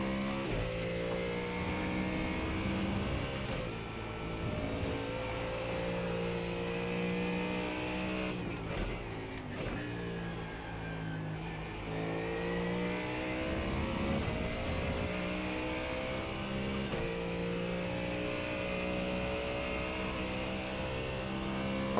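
A Ford Mustang GT3 race car in iRacing drones at steady high revs with rising and falling harmonic sweeps through gear changes and speed shifts, loud and continuous for the whole stretch with no talking.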